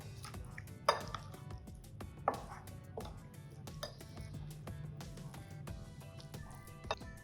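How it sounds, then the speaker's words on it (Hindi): A spoon mixes a spiced batter of gram flour, flour and cornflour in a bowl, with faint scraping and scattered light clinks against the dish, quiet and close, with a few louder taps. "अब आपने इसको अच्छे से मिक्स कर देना है।"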